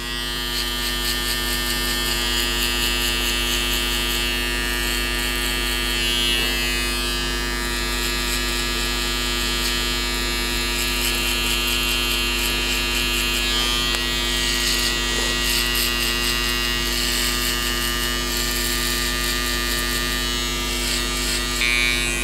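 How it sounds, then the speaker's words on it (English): An electric foil shaver buzzes continuously and loudly up close as it trims hair down for a skin fade, a steady motor hum with no talking over it. "next I'm going to be using a foil shaver and completely board out this bottom part"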